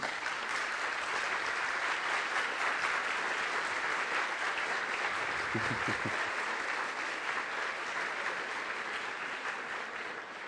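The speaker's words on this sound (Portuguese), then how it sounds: "eu queria pedir uma grande salva de palmas para uma pessoa muito importante nessa terra" An audience at a talk claps together in a long, full round of applause that stays strong throughout and eases off slightly toward the end.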